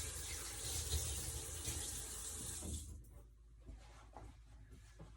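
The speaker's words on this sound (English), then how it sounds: "Just gonna wash my hands anytime I touch my kids' dirty diapers, dirty clothes." Hands are washed under a running tap at a sink after handling dirty cloth diapers and clothes; water streams steadily and loudly, then cuts off, leaving faint drips and handling sounds.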